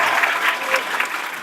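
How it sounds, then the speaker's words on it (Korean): A crowd claps together in brief, steady applause at a youth leadership academy launch event, dense and fairly loud throughout, with a faint voice mixed into the clapping. "우리 박수 한번 응원 한번 해드리시죠"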